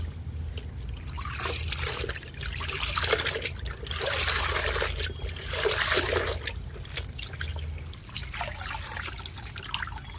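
Palazzo pants are hand-washed in a small amount of water, producing close, uneven sloshing and trickling that rises and falls in waves as the fabric is worked, with no talking.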